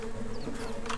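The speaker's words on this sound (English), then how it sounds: "I'm clearing these bees over here" Swarming bees in the video game Secrets of Grindea make a brief, continuous buzzing drone, close and steady for about a second.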